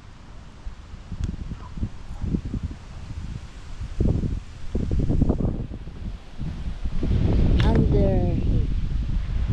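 Gusty wind buffets the microphone outdoors on a cold, sunny day, a steady rumbling roar that swells louder in the second half, with a voice speaking briefly over it.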